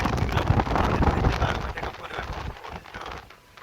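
Wind blowing across a ship deck, loud buffeting gusts battering the microphone, strongest at first and then easing off toward the end.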